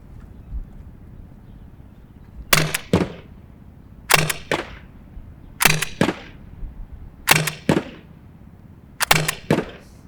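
A CO2-powered paintball shotgun fires five sharp cracks at regular intervals, each a quick double report, moderately close and clear over a quiet outdoor background.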